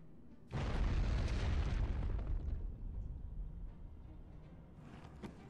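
An explosion goes off in the adventure video game Sea of Lies 4: Tide of Betrayal, a deep rumbling boom that bursts in suddenly and slowly fades over several seconds.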